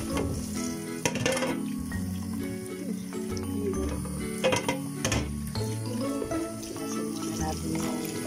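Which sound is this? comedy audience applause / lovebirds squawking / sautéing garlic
sautéing garlic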